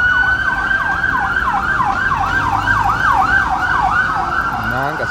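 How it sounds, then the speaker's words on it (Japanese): A police car and ambulance sirens in central London wail in a fast repeating up-and-down pattern, loud and near, over steady traffic noise. "パトカーと救急車は、どこの国に行ってもそうですけど、1日中"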